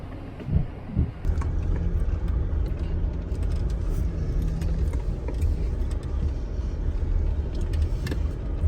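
A car drives along a cliff edge on a desert canyon route, its engine rumbling low and steady from inside the cabin, with a couple of brief knocks near the start.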